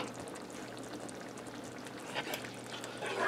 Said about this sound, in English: I'm going to add in 1 cup of heavy cream.